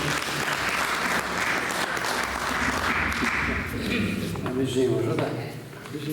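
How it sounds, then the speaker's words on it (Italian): An audience at a Sardinian poetry tribute applauds for Pierino, a thick, steady burst of clapping that tapers off toward the end as voices start to come through. "Applauso a Pierino."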